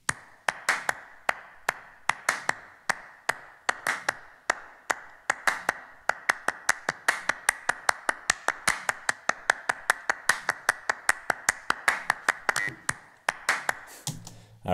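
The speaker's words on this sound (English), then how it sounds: "Here's the clapping. A lot of clapping tracks." Layered clap tracks from a funk mix sound as a dense, steady stream of sharp handclaps in a tight rhythmic pattern, crisp and close for the whole stretch, with no speech.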